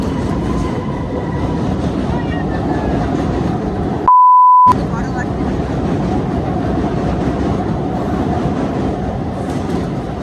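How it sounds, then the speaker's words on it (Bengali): A train rumbles along the tracks beneath a bridge, a loud continuous roar heard from above with a brief electronic beep cutting through midway. "পেছন থেকে ট্রেন চলে যাচ্ছে, নিচ থেকে এই ব্রিজের"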